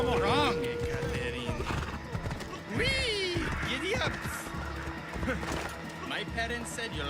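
Hooves clip-clop as a horse gallops in Assassin's Creed Odyssey, with neighs and whinnies breaking in, while a voice talks over the rhythmic footfalls at close range.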